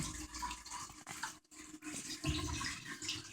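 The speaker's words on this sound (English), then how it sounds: "water starts pouring out of that slot in the back" Water spills steadily from the overflow slot at the back of a Kohler toilet tank, a close, faint splashing trickle with brief gurgles and one short break.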